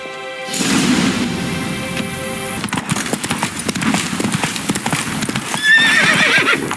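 Horse hooves clip-clopping into a gallop in The Witcher 3: Wild Hunt, with a whinny, close and loud rhythmic steps and game ambience around them.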